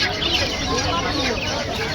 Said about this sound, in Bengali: এখানে বাজিগার পাখি আছে, মুরগি আছে